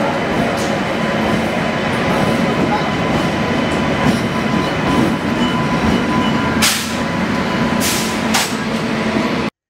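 A train at Boraguhalu railway station, its continuous low rumble and rail noise steady throughout, with a few brief hissing bursts near the end.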